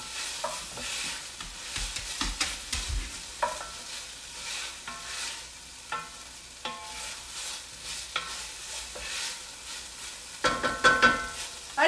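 A pot of Thai chicken soup on medium-high heat is stirred and scraped, giving a steady, close bed of sizzling with repeated scrapes and clinks that grow busier toward the end. No voices are heard.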